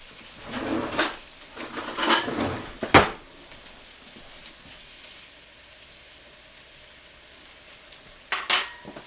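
Metal pot and lid clanks and scraping, a few separate knocks and clatters early and one at the end, from checking potatoes cooking in a single pot with sausage and peppers; faint kitchen hum between.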